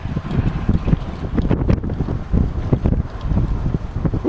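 Steady wind gusts over a vertical axis wind turbine model outdoors, loud rumbling buffeting on the microphone with uneven surges throughout and no clear voices.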